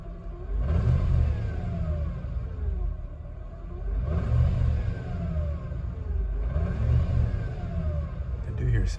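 A car engine idles and revs in three repeated surges with a low rumble, while the gear shifter acts up; a faint mechanical noise sits under the engine, with no speech.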